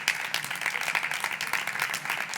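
An audience at a magic show applauds a volunteer, producing a dense, continuous patter of many hands. The sound is moderately distant and fairly quiet and holds steady throughout.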